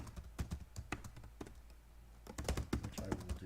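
Rapid, uneven clicking of computer keyboard keys as a new password is typed in to sign in, close and fairly quiet, with a short pause in the middle before a denser burst of keystrokes.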